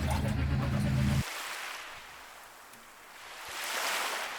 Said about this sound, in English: And these waves gradually get louder and louder.